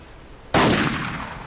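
A single sharp rifle shot rings out in a deer hunting video game, a loud sudden crack after quiet with a short decaying tail.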